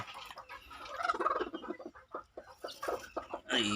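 A hen clucks agitatedly up close in rapid, uneven bursts, growing louder toward the end.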